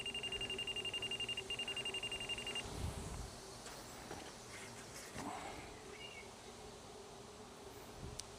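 A laser level receiver mounted on a staff beeps in a steady run of short, evenly spaced high tones for a couple of seconds, set against outdoor background noise while a wildlife pond with a waterfall is being built.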